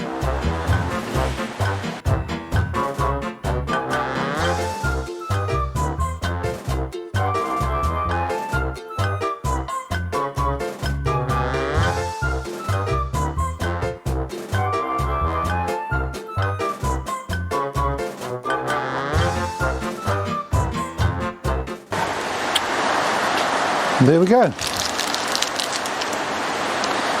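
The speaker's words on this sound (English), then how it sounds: "That rain's getting quite heavy now." Heavy rain pours steadily as a dense, continuous hiss of drops, loud and close, with a brief spoken remark and some knocking mixed in.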